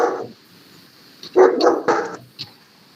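A dog barks nearby, picked up through an open microphone during an online lecture. There are a few sharp barks and a short yip with quiet gaps between them.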